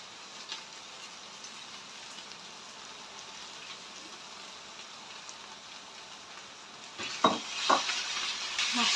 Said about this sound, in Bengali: মাছটা সুন্দর করে ভাজা ভাজা করে দিবা